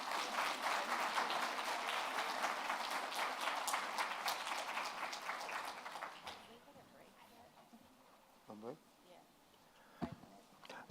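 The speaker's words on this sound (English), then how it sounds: "let's give her another round of applause." Audience applause at a tribal colleges and universities presentation, a dense sustained clapping that fades after about six seconds, leaving quieter room noise with a brief voice and a knock near the end.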